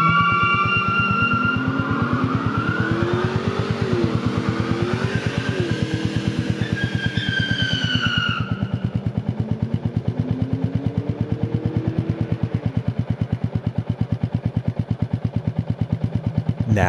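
A Ford Mustang's engine rumbles loudly nearby, revving up and down in a steady throb with rising and falling pitch, then settling into a lower idle-like drone.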